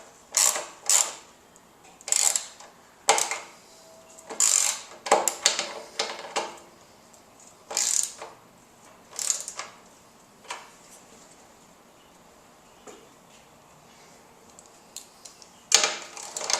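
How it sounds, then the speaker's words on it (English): Wrench clicking and ratcheting while tightening bolts on the roller of a TruCut H20 reel mower, heard as about a dozen separate sharp metallic bursts, close and fairly loud, with quiet gaps between them and no talking. "Tighten these all the way down until they're snug. If I can get my wrench right."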